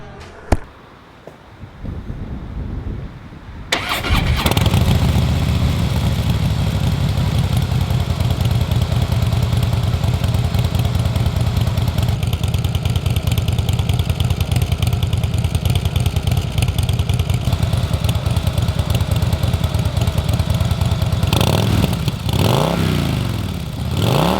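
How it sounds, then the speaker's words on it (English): A stock Harley-Davidson Fat Boy S motorcycle engine with stock exhaust starts with a crank and settles into a loud, steady, lumpy idle with deep rhythmic pulsing, revving slightly near the end. "let's move into the sound test, bearing in mind this is a stock Fat Boy S"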